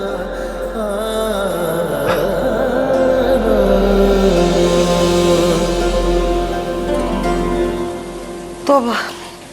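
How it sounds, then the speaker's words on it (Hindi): Heavy, continuous rain pouring down steadily, a dense unbroken hiss filling the scene from start to finish, with a brief knock-like sound near the end. "इतनी बारिश हो रही है और मुसलसल हुए जा रही है"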